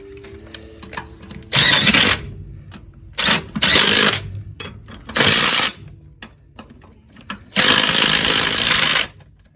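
Power tool torquing lug nuts on a 1967 Chevelle wheel: four loud, harsh rattling bursts of one to two seconds each, separated by short pauses with faint clicks and background noise.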